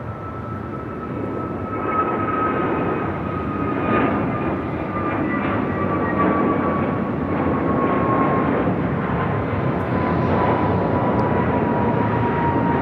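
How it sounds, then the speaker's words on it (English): An American Airlines A321neo jet takes off at LAX bound for Miami, a loud sustained engine roar with a whining tone that drifts and fades slowly over several seconds, with no talking. "Next takeoff is a flight heading to Miami. American Airlines Flight 2440, A321neo."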